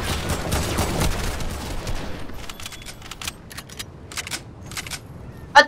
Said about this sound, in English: How dare you shoot me?